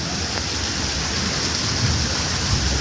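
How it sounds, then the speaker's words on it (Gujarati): Steady heavy rain falls in a loud, continuous broadband wash with a faint low rumble beneath it, like a downpour drumming on rooftops and terraces. "વરસાદ"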